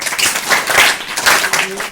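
A village crowd claps steadily in welcome, a dense wash of applause lasting the whole moment, fairly loud and close, with no voices over it.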